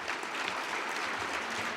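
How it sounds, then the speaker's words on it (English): An audience at a civic talk on downtowns bursts into applause, a steady patter of many hands clapping at moderate volume that fills the whole moment. "Let's give her a round of applause as she comes up."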